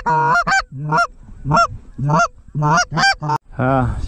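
Canada geese honking repeatedly during an early-season goose hunt in New York, a close, loud series of harsh calls in uneven bursts with short pauses, no talk.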